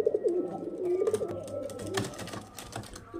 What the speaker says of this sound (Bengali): দেখতে পাচ্ছেন কোয়ালিটি দেখুন পায়রা